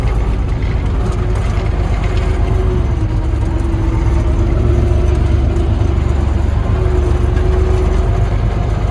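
An MTZ-82 and a T-150K tractor work a field for evening ploughing, producing a loud, steady low engine drone with a faint whine throughout and no pauses.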